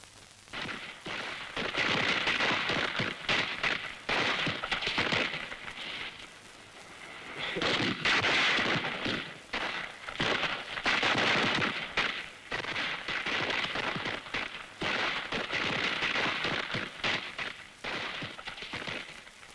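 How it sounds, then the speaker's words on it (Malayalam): Festival fireworks burst at a temple celebration in Kerala, a rapid string of loud cracking explosions crackling in dense bursts throughout, briefly easing between volleys, with no talk. "അതെന്താ എന്റെ നീ വെടിക്കെട്ട് കാണുന്നില്ലേ?"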